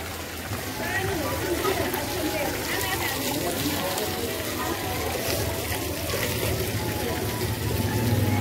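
Cool water runs steadily from a stone spout at Patan Durbar Square, a continuous splashing flow with chatter and voices in the background throughout.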